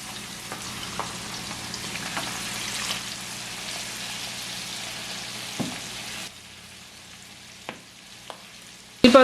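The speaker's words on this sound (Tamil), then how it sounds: "இந்த இறாலையும் வந்து நான் பொரிச்செடுக்க போகிறேன்." Prawns frying in hot oil for an okra prawn curry, a steady close sizzle and crackle that drops quieter partway through, with a few sharp pops and a clatter at the end.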